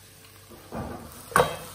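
Olive oil starting to sizzle in a wok, a soft hiss that builds, with a brief louder splash of frying near the end, fairly close and without talking.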